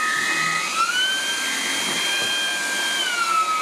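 A Dreame T30 cordless stick vacuum cleaner (29.6 V, 27 kPa) runs continuously and close by, a steady whining motor hum that shifts pitch slightly as power changes, with no talking.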